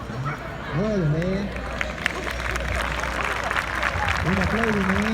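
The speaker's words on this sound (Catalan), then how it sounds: "Un aplaudiment" Audience applause at a Catalan sheepdog trial rises into a steady wash of clapping and crowd noise, while a voice speaks over it.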